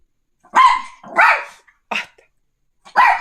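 A dog lets out four sharp, close barks in an irregular sequence, with short pauses between them and silence around each one.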